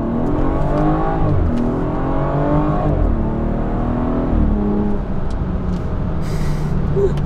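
A BMW F30 340i with a B58 engine accelerates in Sport Plus, heard from inside the cabin. The engine note climbs in strong rising pulls over a constant road drone.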